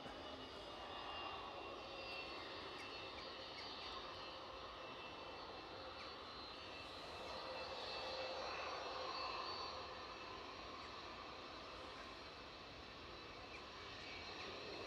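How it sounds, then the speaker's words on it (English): A United Boeing 757 jet departing Edinburgh Airport for Newark sounds as a distant, faint, steady engine roar with a high whine, swelling slightly as it passes and then holding. "we do have the United 757 departure to New York, Newark"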